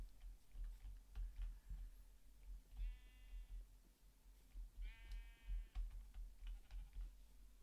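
Two short Minecraft sheep bleats stand out over a steady low rumble and faint clicking, one early and one a couple of seconds later.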